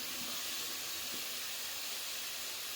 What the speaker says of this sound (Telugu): పచ్చివాసన వెళ్ళేంత వరకు ఫ్రై చేసుకోవాలి ఆనియన్ని బాగా